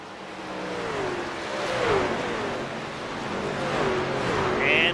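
A NASCAR race car in a sim racing game at Atlanta Motor Speedway drones steadily with rising and falling engine tones as cars pass, while a commentator talks over it.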